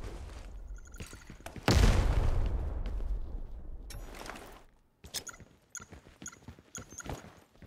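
In the shooter game ARK: Lost Light, a grenade goes off in one loud booming blast with a long rumbling tail, followed by scattered sharp clicks and thuds of gameplay.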